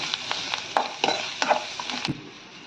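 Potato paratha filling frying in a little oil, stirred with a utensil that scrapes and taps the pan several times in an irregular rhythm over a soft sizzle, close up and without speech.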